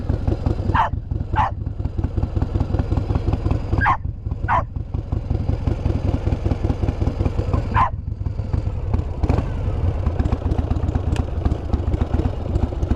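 A dog barks in scattered sharp bursts over a steady rumbling drone from a Harley-Davidson Heritage Softail motorcycle with sidecar that runs throughout.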